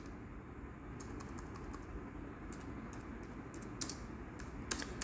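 Typing on a computer keyboard while entering program code, with steady key clicks and a few louder taps near the end over a constant background hum.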